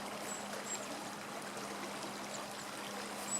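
Vasalemma river in Madise village, Estonia, flowing steadily with a constant close trickle and babble, no voices, a soft even wash throughout.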